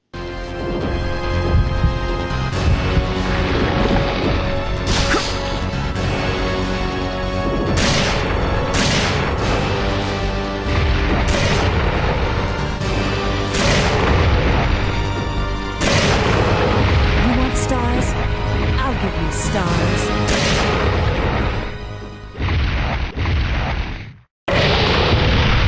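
A big explosion in the video game Resident Evil 3: Nemesis thunders with loud, continuous booming and rumbling blasts for about twenty seconds, then cuts to a brief silence before more roar.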